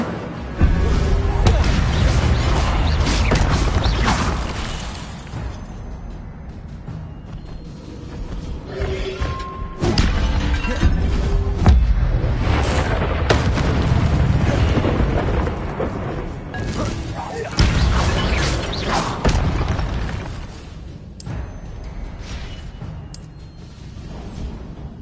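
Repeated booming fire-spell blasts from Incendio casts in Hogwarts Legacy, several heavy whooshing bursts in waves, loud and close, separated by short quieter stretches.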